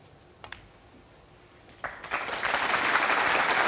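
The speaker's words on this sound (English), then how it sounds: "A well-deserved round of applause." Snooker crowd at the 2016 Champion of Champions match between Joe Perry and Mark Allen: a quiet hall with a couple of faint clicks, then applause that breaks out and swells to a full, sustained ovation.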